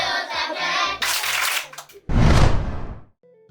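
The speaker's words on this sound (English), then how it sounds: "Clap your hands. Fast one." Several people clap their hands together in a busy outdoor setting in the Makoko waterfront community in Nigeria, brisk rhythmic claps that end in a loud close burst before trailing off.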